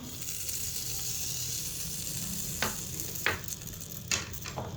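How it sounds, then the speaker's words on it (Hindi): Butter heating in a freshly cleaned pan over a lit flame for chicken pasta, a soft steady sizzle punctuated by a few sharp clinks and scrapes near the end. "अब मैं इसके अंदर मक्खन ऐड करूँगी पहले"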